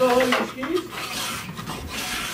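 A file scraping along a ski's steel edge during tuning: a few loud, close, gritty rasping strokes of about half a second each, run back to back without talk.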